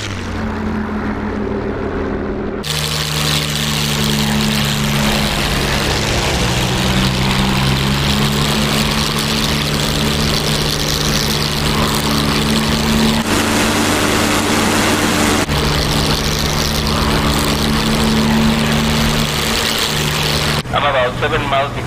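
A WWII propeller bomber in the DCS flight game drones with a loud, steady multi-engine roar that fills the whole stretch, with a few abrupt cuts in tone along the way.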